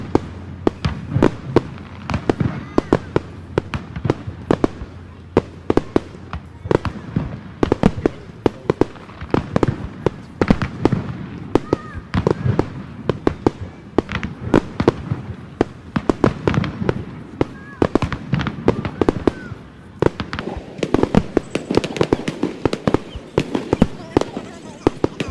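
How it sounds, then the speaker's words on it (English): A fireworks show over Waikiki Beach on Oahu, Hawaii, crackles with a long string of sharp bangs and pops heard from a distance, irregular and steady throughout, with people talking quietly in between. "Let's see the fireworks."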